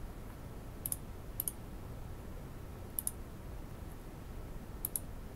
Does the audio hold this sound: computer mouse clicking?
yes